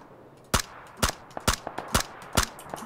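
Gunfire in the battle-royale game PUBG (Battlegrounds) rings out at fairly close range, a run of sharp separate reports at uneven intervals, a few louder cracks mixed with quieter ones, with no talk over them.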